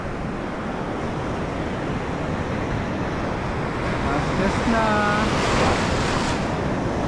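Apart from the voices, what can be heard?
sea waves breaking on the shore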